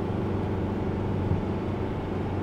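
A campervan's 2-litre turbo diesel engine with a 9-speed automatic gearbox climbs a steep hill, a steady low drone heard from inside the cabin without letup.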